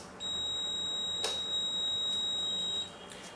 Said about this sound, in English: So the loud beep tells you that the machine is now in calibration mode